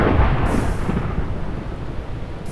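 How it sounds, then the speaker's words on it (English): Thunderstorm in a crafting survival video game, a loud rolling rumble of thunder over a hiss of rain, strongest at the start and easing into a steady stormy wash, with no voices. "So it's turned into a thunderstorm now"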